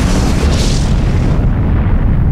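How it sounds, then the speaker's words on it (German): A violent volcanic eruption of Krakatau roars as a continuous, dense, loud rumble with a broad blast of noise, steady throughout and heard alone without speech. "Diese heftige Eruption war die Eröffnungssalve für eine Serie von Ausbrüchen in den folgenden Monaten."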